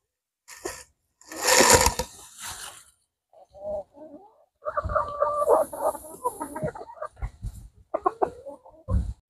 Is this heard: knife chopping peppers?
no